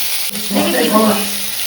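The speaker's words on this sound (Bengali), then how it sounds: "আলু ভাজাটা বসছে ঢেকে ইয়ে দিই" Potatoes fry in a pan in a home kitchen, giving a steady bright sizzle across the short moment, with a brief knock near the start and a faint hint of voice in the background.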